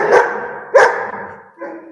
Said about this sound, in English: My dog wants to play.